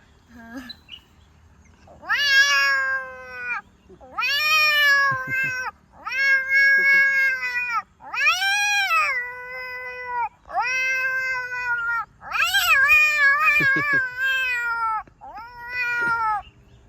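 A boy imitates cats fighting, producing a series of long, wavering yowls and caterwauls, loud and close, separated by short pauses.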